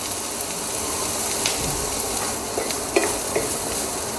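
Carrots, beans and peas sauté in a pan, a steady soft sizzle broken by scattered clicks and scrapes of stirring.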